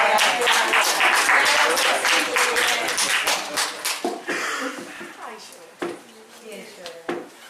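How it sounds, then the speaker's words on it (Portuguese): An audience at an Ibero-American seminar in León, Spain, applauds a lecturer after his talk; loud, dense clapping that gradually thins into scattered claps and fades out. "Otro aplauso para ti."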